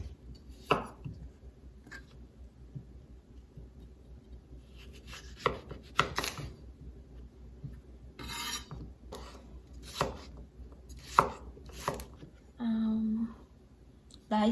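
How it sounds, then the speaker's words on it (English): A knife dices washed tomatoes on a board for a cucumber and tomato salad at a backyard barbecue: sparse, sharp taps in irregular bursts, some close and crisp, with a few duller thuds and quiet gaps between. "Dice these tomatoes too."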